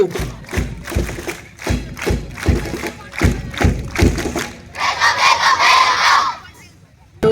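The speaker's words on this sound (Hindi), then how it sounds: "जोरदार तालियों के साथ हम करेंगे वेलकम क्लेप" A school foundation-day crowd performs a rhythmic welcome clap, loud steady beats in a regular pattern with group shouts, ending in a burst of cheering from many children.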